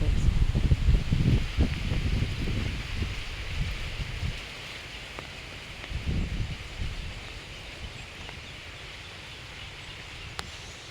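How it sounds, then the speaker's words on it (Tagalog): Strong wind with rain outdoors at harvest time makes a steady broadband rush with gusty low rumbles of wind hitting the microphone, continuous and fairly loud, and fades somewhat toward the end. "ulan tapos ang lakas ng hangin."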